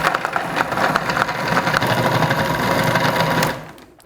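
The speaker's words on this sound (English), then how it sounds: "you let the food processor take the strain, and we whiz it until it's really nice and smooth again" A food processor whizzes an ice cream mixture for homemade vanilla ice cream, a loud steady motor whir with a rattling blade that runs continuously and then cuts out near the end.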